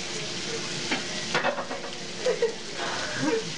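Green beans sizzle and crackle as they fry in a pan, with stirring scrapes and a few brief bursts over a steady, fairly quiet frying hiss.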